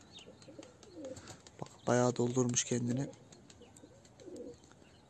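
A pigeon held in the hand coos close by in a short burst of low, rolling notes, with someone speaking softly in Turkish before and after it.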